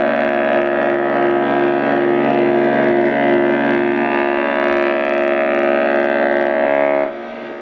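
Loud, sustained ship horn from a sound file for the Virtual Sailor ship simulator, a rich droning blast held steady for about seven seconds before it abruptly cuts off.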